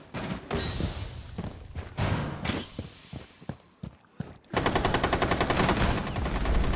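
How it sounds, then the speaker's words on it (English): Gunfire in a Rainbow Six Siege hostage round: irregular single shots and short bursts with glass-like shattering, then a sustained rapid automatic stream at close range, loud and without talking over it. "They shot the hostage."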